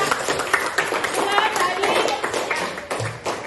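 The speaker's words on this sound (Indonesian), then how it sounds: "Oke, tepuk tangan dulu ya" Classmates clap for a student group after its presentation in a school classroom, a brisk patter of many hands at moderate loudness, mixed with overlapping children's chatter and voices throughout.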